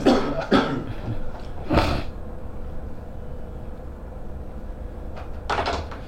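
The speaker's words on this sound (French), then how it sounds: "Vous pouvez tousser pendant qu'il la pose." A few sharp coughs close by, clustered at the start, then quiet room tone and a final cough or throat clear near the end.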